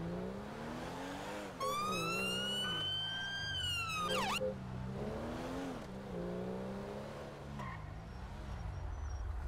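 Police car siren in the GTA 5 game with the LSPDFR mod, loud and close, sweeping in rising and falling wails with a quick yelping burst, over a low engine drone.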